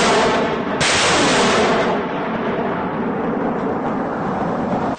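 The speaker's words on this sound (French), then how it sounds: "Avant les hostilités, c'est l'artillerie qui annonce les couleurs." Military artillery fire with rockets launched at distant bases during an operation, a loud deep rumbling roar with a sharp renewed blast early on, then sustained thunder that slowly fades.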